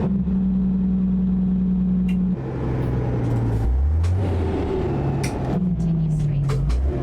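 Engine of a Peterbilt 281 truck in American Truck Simulator, a steady low drone that drops and shifts in pitch as the Jake brake engages and revs fall and climb. A voice talks over it.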